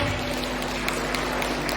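Audience at an LPDP scholarship information session clapping together: a steady, dense wash of applause at even loudness across the brief stretch.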